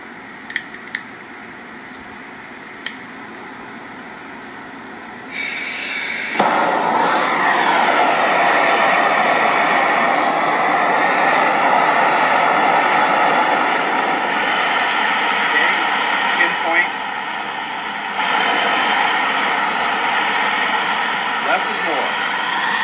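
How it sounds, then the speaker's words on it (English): A propane torch is lit and burns with a steady, loud roaring hiss as it heats a crucible holding a few ounces of silver, after a few faint clicks and a quieter hiss. "Propane is on, and let's see about lighting this baby up."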